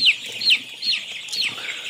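Broiler chickens on a farm in winter, crowded together in a huddle, give repeated close clucks and chirps, about four or five calls in quick, uneven succession.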